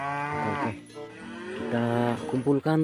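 Cartoon-style red-and-white cow mooing, a long drawn-out moo heard twice under and between a person's excited talk, loud and close.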